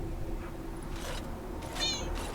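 A cat gives a few short, fairly faint meows, spaced out over steady low background noise, with no speech over them.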